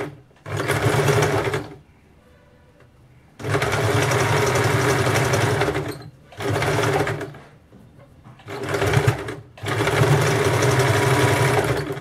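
A sewing machine stitches the edge of a blouse hook strip for a back-open blouse, running in loud, steady whirring bursts of one to three seconds separated by short pauses.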